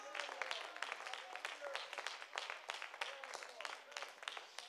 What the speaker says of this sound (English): Clap your hands unto him.